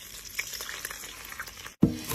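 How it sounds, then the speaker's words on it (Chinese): Pork fat rendering and frying in a pan, a continuous crackling sizzle with scattered pops, briefly cut off before a louder burst of sizzling returns. "炼点小肥油，炒的黄泱泱的，硬硬的"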